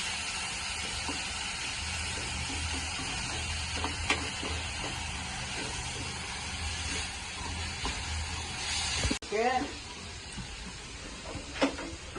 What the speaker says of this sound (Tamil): இலையெல்லாம் பச்சை வாசம் போற வரைக்கும் நல்லா வதக்கணும்